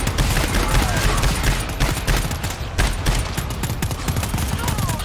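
Heavy automatic gunfire in the co-op shooter GTFO. Loud, rapid shots keep up a continuous barrage of close bursts with no pauses, filling the entire stretch.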